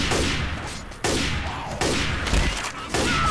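Gunfire in the video game Left 4 Dead 2, repeated loud bursts of shots in quick succession with sharp onsets every second or so, layered over continuous battle noise.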